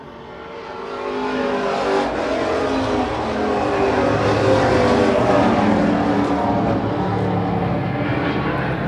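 Race cars running single file in a Super Street heat on a racetrack: a sustained, loud blend of engine roar and revving that builds after the first second and holds steady, with no talking.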